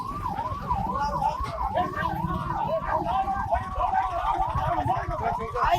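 An ambulance siren wails in a fast, repeating rising-and-falling pattern, loud and close, over road traffic noise and voices on the street.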